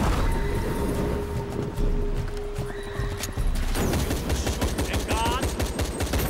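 Rapid gunfire crackles in dense bursts during a fight in the video game Shadow of the Tomb Raider, growing thicker in the second half amid a busy, loud mix of game sounds.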